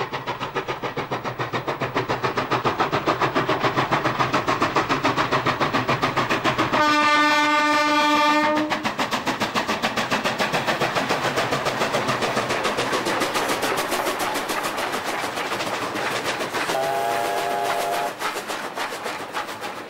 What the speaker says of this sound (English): trains often powered by double-headed steam locomotives